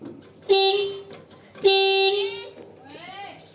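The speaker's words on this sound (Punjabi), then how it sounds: "ਹਾਰਨ ਵੀ ਲਾਇਆ ਆਪਾਂ ਟਰੈਕਟਰ ਦੇ ਉੱਪਰ" A tractor horn honks twice, each blast long, loud and close, followed by a short fading tonal sound.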